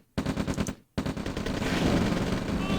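Rifle infantry open fire in the real-time strategy game OpenRA Red Alert, with a short burst of rapid shots, a brief pause, then a longer sustained volley of dense gunfire.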